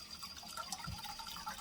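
Tap water runs steadily over a freshly peeled hard-boiled egg being rinsed, a low, broadband splash with small gurgles that stays at one even level throughout.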